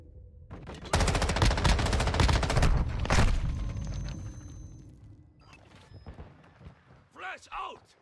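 Loud sustained bursts of rapid gunfire and a heavy blast from a Semtex sticky grenade in a Call of Duty match with the M13 rifle, fading into scattered shots and effects, with a voice calling out over the end.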